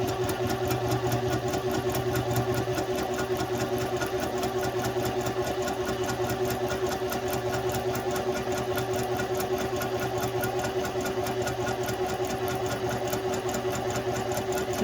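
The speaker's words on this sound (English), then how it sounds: "Lower your presser foot and continue sewing." A sewing machine runs steadily while stitching fabric with the presser foot lowered, a continuous close, even mechanical whir with a rapid needle rhythm throughout and no voices.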